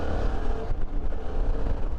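A 2023 Suzuki V-Strom 650 mid-size adventure motorcycle accelerates with a steady, continuous engine drone, close and fairly loud throughout, rising smoothly rather than surging, with no talking.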